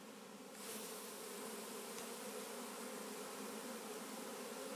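A honey bee swarm hums at a hive entrance, a dense, continuous buzz that swells in the first second and then holds steady and close, with no talking.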